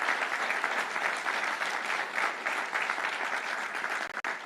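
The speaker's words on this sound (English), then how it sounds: "We have to give a round of applause to Leader Cam Buckner and Leader Marcus Evan" Sustained applause from an audience at a Cook County announcement event for a quantum park, a thick, even clapping texture that holds steady throughout and drops out briefly near the end.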